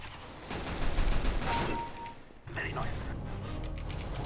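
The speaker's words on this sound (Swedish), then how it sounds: "ibland går skott så här helt åt snetten." Gunfire in a CS:GO deathmatch round with a Tec-9 pistol, heard as a burst of loud shots at the start, then more scattered shots and clatter underneath, with a player talking over it.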